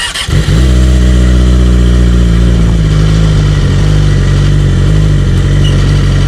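A Yamaha R6 sport motorcycle fires up with a sharp starter catch, then settles into a loud, close, steady engine drone with strong low rumble and a faint rising rev, running alone without talk.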